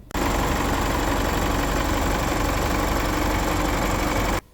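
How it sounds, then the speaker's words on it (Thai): A diesel engine idles steadily up close, a loud, continuous rattling clatter with a low rumble that stops abruptly at the end. "รถเครื่องยนต์ดีเซลนะครับเราจะได้ยินเสียงเครื่องเขาชัดเจนเลยครับสตาร์ทเครื่องปุ๊บเนี่ย"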